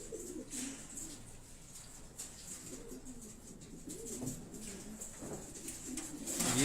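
Pigeons coo softly and repeatedly nearby, low burbling calls overlapping against a faint background hiss.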